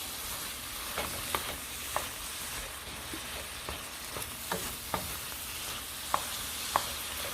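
Cooked shrimp are stirred into a sizzling pan for Creole shrimp and grits, a steady frying hiss with scattered soft scrapes and taps of the utensil, close and without speech.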